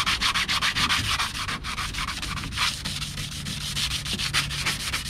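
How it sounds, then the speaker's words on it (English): A new steel drywall knife blade being sanded to remove its shine, giving close, loud, rapid back-and-forth scratching strokes in a steady rhythm with a brief pause, no talking. "then we'll sand it. You want to try and get all the shine off if you can."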